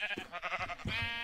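Sheep in the Minecraft video game bleat in a couple of wavering, nasal calls, one after another, loud and close with no talk over them.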